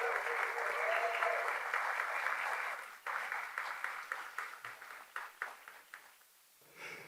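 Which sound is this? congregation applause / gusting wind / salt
congregation applause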